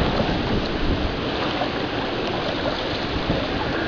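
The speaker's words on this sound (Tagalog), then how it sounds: "sobrang lakas ng agos" Strong floodwater current during Typhoon Pedring makes a steady, loud, unbroken rushing roar, close and dense, with no pauses or voices.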